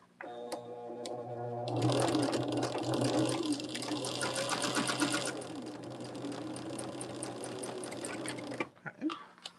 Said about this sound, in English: you could put all of your piecings together and then just sew the unit, or you could do them one by one like I am